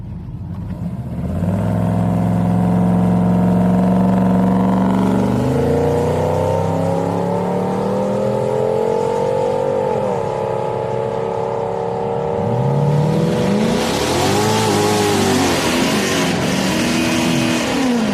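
Drag racing cars at Houston Raceway Park during a Friday street night, loud engines revving and accelerating hard down the strip, with shifting pitch as one car pulls away and another launches near the end, no talk.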